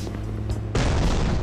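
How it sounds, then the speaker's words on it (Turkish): A sudden loud boom cuts in halfway, followed by sustained blasting noise, explosions in the video game Rainbow Friends. "Her taraf patladı."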